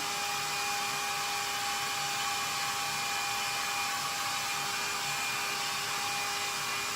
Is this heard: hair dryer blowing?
yes